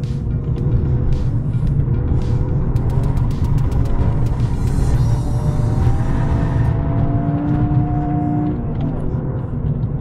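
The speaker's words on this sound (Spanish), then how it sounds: "el motor acelera súper veloz" A Toyota GR Yaris engine drones loudly and steadily on a race track, a continuous close in-cabin roar with rising pitch as it accelerates, no pauses.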